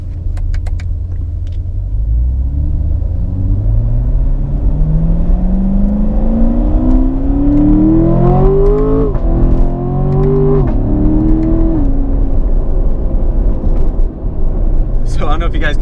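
A 2018 Chevrolet Corvette Grand Sport driving with a deep engine rumble that climbs through rising revs, eases off between shifts and climbs again, while someone talks over the sound.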